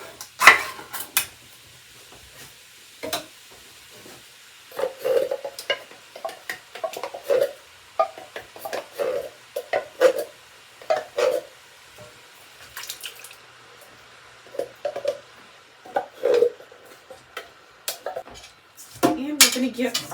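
Canned diced tomatoes and tomato sauce going into a pot of chili, with scattered close clinks, scrapes and soft wet plops of pouring and spooning, irregular and fairly quiet, with no talking.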